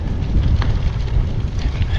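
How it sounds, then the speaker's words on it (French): Strong headwind roars across the microphone of a gravel bike during a long country ride, a constant heavy low rumble with gusty buffeting and no voices. "j'ai le vent en pleine poire. Ouais, le vent s'est levé là depuis une petite demi-heure."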